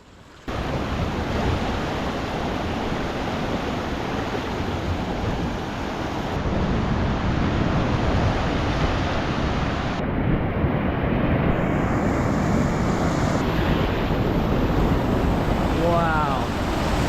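Waves breaking on the rocks at Sorrento Back Beach make a loud, continuous roar of surf, with steady wash and wind noise throughout and no speech.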